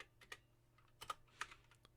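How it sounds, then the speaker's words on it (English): Typing on a computer keyboard, a few sparse, faint key clicks in small clusters with quiet pauses between them, close up and with no talking. "Having trouble typing today."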